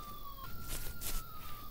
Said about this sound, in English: We keep hearing police sirens